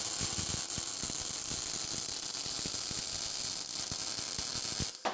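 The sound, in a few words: MIG welding a steel workbench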